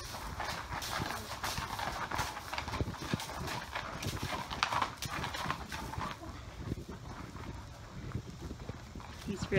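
A horse walks with children riding, hooves giving a soft steady clip-clop close by, with people talking over it throughout.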